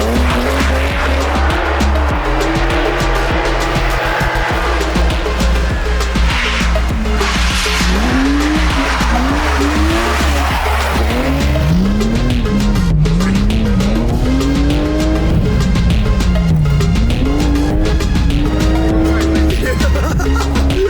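Polonez car drifting with poor visibility, engine revving up and down continuously while tires squeal loudly in long wavering screeches throughout, close and dominant.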